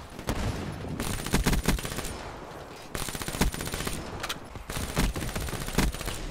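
Submachine gun fire in the Black Ops 3 video game crackles in rapid bursts of sharp shots, separated by short pauses, moderately loud with no voices over it.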